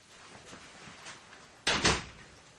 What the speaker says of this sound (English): And you may close the door.